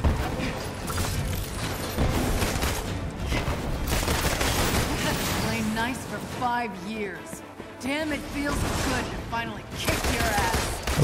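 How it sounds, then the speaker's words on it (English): Gunfire as Black Widow shoots in the video game Marvel's Avengers: a dense, sustained fusillade of rapid shots and booms with game effects and music, while players talk over the action. "Come on, Widow. Shoot the damn thing."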